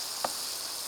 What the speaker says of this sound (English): letting it just simmer a little bit